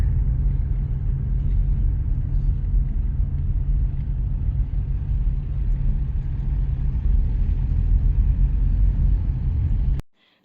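Low, steady rumble of road traffic and an idling engine near a bridge, continuous and fairly loud, cutting off abruptly at the end.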